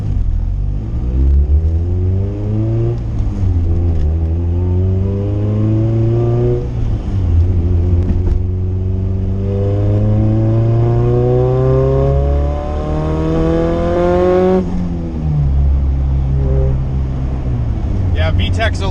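A turbocharged Honda Civic with a GSR engine accelerates hard through several gears, its engine note climbing in long sweeping rises with drops at each shift, loud and close from inside the car, with a voice talking over it.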